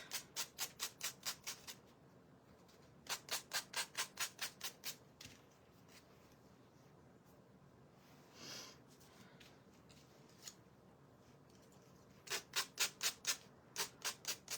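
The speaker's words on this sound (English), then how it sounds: "Let me sand these off a little bit." Hand sanding of a fall craft piece, heard as quick rhythmic bursts of scraping strokes, about ten strokes in each of three clusters separated by quieter pauses, close and fairly loud with no talking.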